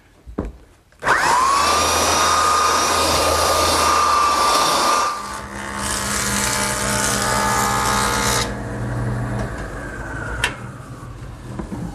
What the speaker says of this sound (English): I'm ready to give each side a light sanding with my belt sander